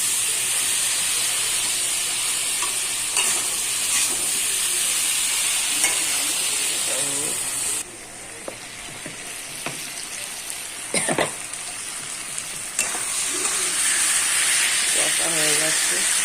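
Cumin and spices frying in a pan, a steady close hiss and sizzle running throughout with occasional stirring clatters and brief louder spits, easing briefly midway before rising again.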